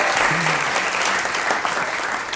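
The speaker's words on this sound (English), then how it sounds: "Let's give a round of applause for that" Live audience applauding during a comedy podcast recording, a brief dense burst of clapping held at a steady, fairly loud level with a faint voice briefly underneath.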